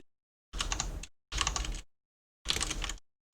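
Three short bursts of rapid typing on a computer keyboard while working in a command-line terminal, each lasting about half a second and separated by brief pauses, close and clear with no talking.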